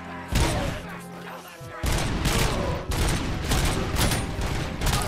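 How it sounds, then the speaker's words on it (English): A special .50-caliber hand cannon in the RoboCop Rogue City game fires a rapid series of loud, close blasts, with repeated gunshots cracking out over several seconds. "This hand cannon doesn't hit that hard, which is kind of sad, as you would think. It's a special 50 cal."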